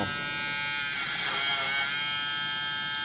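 A Powermatic 3 electric cigarette injector machine runs with a steady, loud mechanical buzz and whine throughout, rising slightly in the middle, with no talking.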